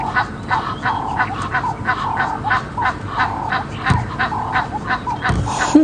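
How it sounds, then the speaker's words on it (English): A steady run of loud, nasal Egyptian goose honks at Djuma Game Reserve repeats in quick rhythm, nearby and continuous, with a brief low thump near the end. "the Egyptian geese are making a noise"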